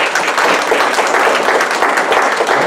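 Church congregation applauding during a service, a steady dense burst of clapping from many hands throughout, fairly loud with no talk.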